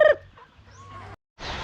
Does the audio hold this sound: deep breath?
no